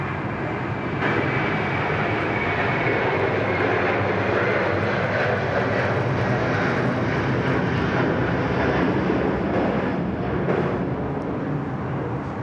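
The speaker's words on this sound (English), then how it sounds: "Qantas 81 to Singapore, off she goes." Qantas jet airliner taking off from Sydney Airport, a steady broadband engine roar sustained for the whole stretch, heard from an airport tower without talk.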